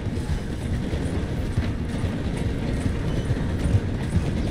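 In Red Dead Redemption 2, a horse's hoofbeats run beside a slowing train, mixed into a dense, steady rumble of rolling rail cars.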